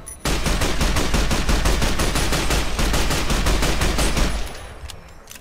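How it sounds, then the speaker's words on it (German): Rapid automatic gunfire from a weapon in Fallout New Vegas, a dense loud burst of evenly spaced shots lasting about four seconds before cutting off, with no talking. "Man kann übrigens auch schnell schießen damit."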